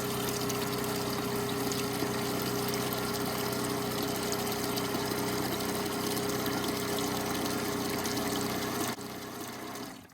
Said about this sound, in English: Yeah, it's flowing fuel.